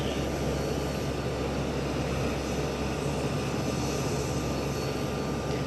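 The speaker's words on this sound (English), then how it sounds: "So now we have an Allegiant Airbus A320 taking off" An Allegiant Airbus A320 airliner taking off at Springfield-Branson National Airport gives a loud, steady broadband engine roar that fills the whole stretch without fading, heard from nearby with no talk.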